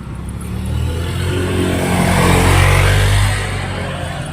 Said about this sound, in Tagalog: Matabi-tabi, may motor.